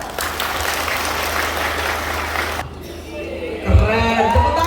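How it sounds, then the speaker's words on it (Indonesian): Audience applause at a Christmas church gathering, a dense, steady clapping that fills the first few seconds, then stops abruptly as a voice begins speaking. "tepuk tangan"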